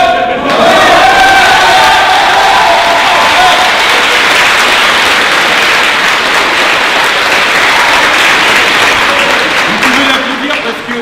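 A live audience at a French eloquence contest in Tours breaks into sustained, loud applause with scattered cheers, filling the hall steadily for about ten seconds before tapering slightly at the end.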